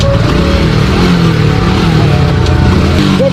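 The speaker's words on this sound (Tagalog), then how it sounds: "Tapos buksan mo ulit yung makina, start mo ulit." A delivery rider's motorcycle with a broken chain idles loudly and close by, its engine running steadily with slight revving throughout.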